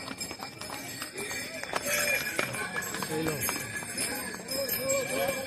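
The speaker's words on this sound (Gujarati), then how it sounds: "અમારા ઘોડા ધીમે ધીમે આગળ જાય છે" Horses climb slowly up a cold, snowy mountain pilgrimage trail to Yamunotri, their hooves striking the path in a repeated clip-clop, close and uneven, with people talking over the steps throughout.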